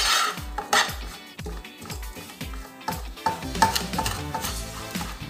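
A spoon stirs Nigerian egusi soup in a pot over low heat as seasoning is added, giving repeated rhythmic scraping and clinking strokes close up alongside a steady faint sizzle.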